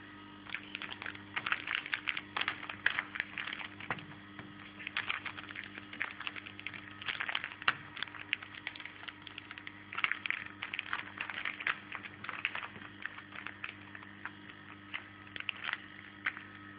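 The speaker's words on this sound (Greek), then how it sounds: "Ακούμε τους διάφορους ήχους από τη σακούλα που σφίγγει." A plastic bag tightening under suction from a homemade vacuum pump gives off dense, irregular crackles and ticks. A steady low motor hum runs underneath throughout.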